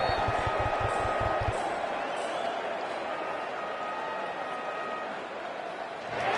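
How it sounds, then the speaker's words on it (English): Loud cricket crowd at an India vs South Africa T20 match as players walk out, a steady dense roar of massed voices with faint rhythmic drumming early on, no single speaker standing out. "it's a loud crowd as the players make their way out"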